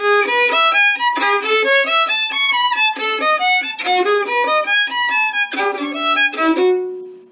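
A violin plays a quick run of notes from Kreutzer Etude No. 8 with abrupt, uneven jumps between strings, bright and close, ending on a sustained tone that fades out.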